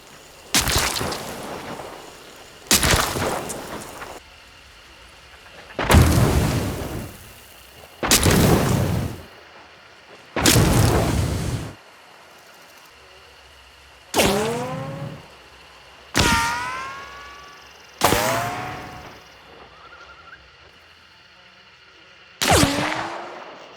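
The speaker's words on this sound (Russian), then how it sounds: "По звуку выстрела можно определить оружие" Gunshots in the video game Hunt: Showdown 1896 ring out as about nine separate loud blasts spaced a few seconds apart, each with a sharp crack and a decaying echo, some trailing a descending whine, with no speech.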